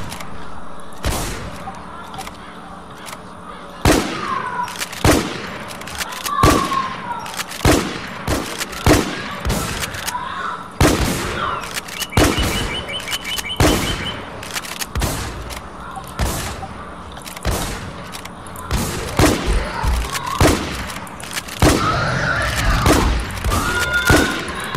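Gunfire in the zombie survival video game Infestation Survivor Stories: loud single shots and short bursts ring out repeatedly over about 25 seconds, sharp and close, with occasional booms and faint in-game background noise.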